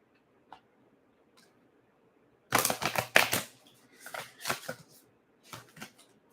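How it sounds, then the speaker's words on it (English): A deck of tarot cards is shuffled in two quick bursts of crisp riffling and flicking, close and fairly quiet, with brief softer card taps afterward and near silence before. "I'm going to shuffle this a few more times."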